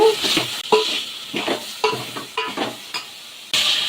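Egg drumstick curry being stirred in a pan after salt goes in, close scraping strokes over a soft sizzle, several distinct stirs in quick rhythm.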